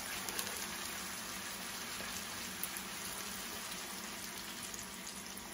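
Water goes into a small cooking pot of bangus paksiw, a soft steady wash of splashing and bubbling with faint drips, fairly quiet and without talk.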